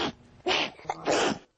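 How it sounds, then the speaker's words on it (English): A 12-year-old girl with a bad case of uncontrollable sneezing lets out three close, loud sneezes in quick succession, each a sharp burst with no talk between. "I can't stop sneezing."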